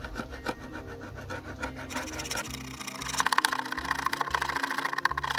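A chisel scrapes hardened glue or epoxy residue off a boat hull, soft rubbing strokes giving way to quicker, rasping scrapes that grow louder and more rhythmic, close up with no talking.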